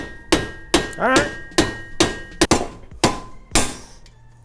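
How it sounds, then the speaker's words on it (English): A mallet drives a swing arm extension for a Razor into place with about nine sharp, close knocks at an uneven pace, and one short spoken remark is heard among them. "We'll start with a mallet, and if we have to step up to the big boy, we will."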